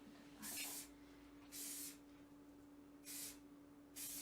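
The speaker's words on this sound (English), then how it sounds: "I'm going to blast this with some hairspray again" Hairspray is blasted onto set vintage 1950s soft waves in four short hissing bursts, evenly spaced and close, with quiet room tone between sprays.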